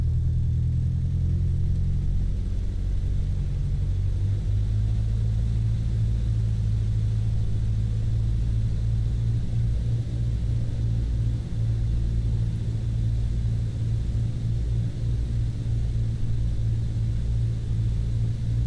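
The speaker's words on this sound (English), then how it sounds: "Alright, let's run up the motor." A small aircraft engine being run up in Microsoft Flight Simulator 2020 gives a loud, steady droning rumble that climbs a few seconds in and then holds at a continuous high-power roar throughout.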